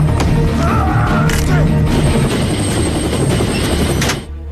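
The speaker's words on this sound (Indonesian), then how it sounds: "memerintahkan untuk mengeluarkan helikopter tempur" Loud, continuous helicopter rotor thumping close by, with crashing and metallic bursts over it, cutting off abruptly at the end.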